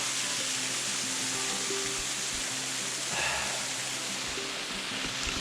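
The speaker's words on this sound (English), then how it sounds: "enjoy the waterfall" A steady, broadband rush of falling water from a waterfall on Peak District moorland fills the scene continuously, close and fairly loud with no speech over it.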